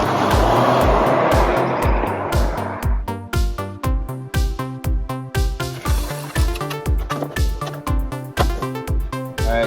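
A base all-wheel-drive Alfa Romeo Giulia is driven while steady engine and road noise from inside the cabin pulse in a fast, regular rhythmic thumping throughout.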